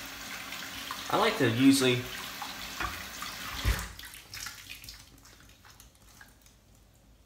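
A boar-bristle shaving brush is rinsed under a running tap, giving a close splashing rush of water that fades over a few seconds. Someone talks over the start of it.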